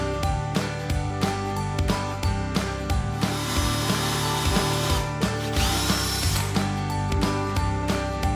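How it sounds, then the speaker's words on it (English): A power drill whirs continuously with pulsing motor pitch, pre-drilling holes into the wooden corners of a bed frame, loud and close throughout. "We pre-drilled these holes on the outer and inner frame corners"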